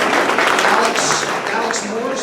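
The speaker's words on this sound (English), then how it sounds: "give them a round of applause" Audience applause for visiting Rotarians at a club meeting: steady, dense clapping from a room of people that fades slightly toward the end.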